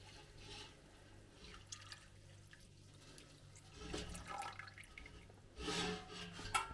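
Water is poured into a cooking pot, heard as a gentle, uneven splashing and running that swells louder toward the end, close by with no talking.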